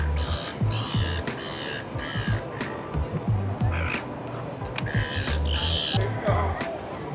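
Outdoors in Australia, birds call repeatedly in loud, harsh bursts, several caws and squawks spaced across the stretch over a steady background of ambient noise.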